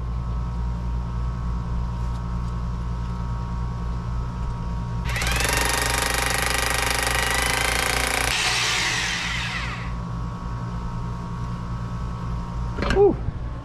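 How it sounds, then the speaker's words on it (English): A power drill bores a 1-inch hole through a metal electrical panel for a hot tub, a loud grinding burst of about three seconds over steady background hum, then trailing off. "Time to drill, 1 inch."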